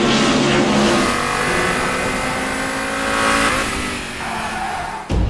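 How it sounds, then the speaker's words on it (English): Audi TT RS five-cylinder engine revs hard and loud, with a rising, rasping motor tone that shifts pitch as the throttle changes, heard up close with no talking. "Many people remember the sound of the 5-cylinder in former times, and they now hear it once again in the"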